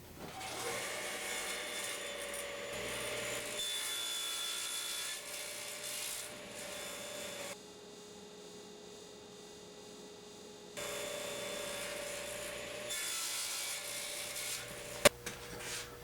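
Faint, steady back-and-forth rasping of a hand saw cutting a wooden bed leg to length in a workshop, strokes continuing with a short pause midway and a low mains hum underneath.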